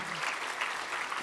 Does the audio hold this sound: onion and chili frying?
no